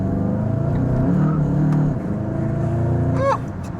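A modified VW Golf GTI hot hatch accelerates with a loud, steady engine drone from inside the car, its pitch dipping briefly as traction control cuts in before the engine pulls again.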